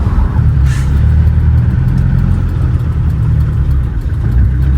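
A low, rumbling engine of a 24-year-old Mahindra Bolero SUV drones steadily while driving, heavy bass hum with constant road noise throughout.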